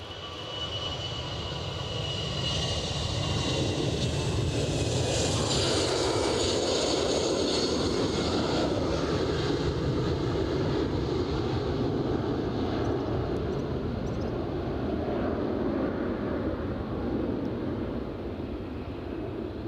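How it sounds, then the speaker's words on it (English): Steady roar of jet aircraft engines at Aberdeen airport, loud and continuous, with a broad rumble and a hissing whine rising and fading as a plane moves nearby. "the sound of jet engines."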